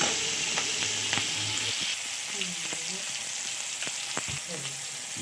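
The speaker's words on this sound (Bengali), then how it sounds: "এবার কোচানো যে পেঁয়াজগুলো আছে সেগুলো দিয়ে লাল করে ভেজে নেব" Chopped onions and a few chilli pieces fry in hot oil with bay leaf for a prawn malai curry, a close, continuous sizzle with occasional spatula clinks and scraping stirs.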